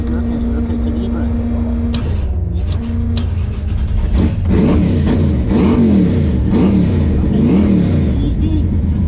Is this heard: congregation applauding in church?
no